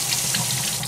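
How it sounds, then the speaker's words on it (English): Hot water runs steadily from a tap into a sink, a close, continuous rushing hiss. "Hot water. Want hot water."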